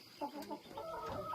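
Several chickens cluck close by in a short burst of overlapping clucks and soft calls, with no talking over them.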